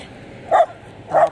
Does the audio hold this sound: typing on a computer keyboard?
no